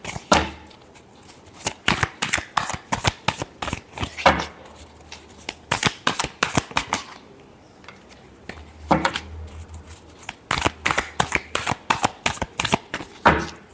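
Tarot cards are shuffled by hand in a long run of quick, crisp riffling and slapping bursts, close and fairly loud, with brief pauses between rounds.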